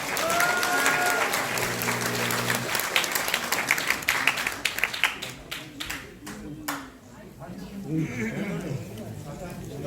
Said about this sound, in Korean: 하나하나를 여러분들이 박수와 응원으로 함께 해주시면 대단히 고맙겠습니다.